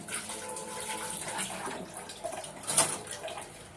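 Tap water runs steadily while hands are rinsed at a kitchen sink during cooking, a continuous close splashing hiss with a few brief louder spatters near the end and no talking.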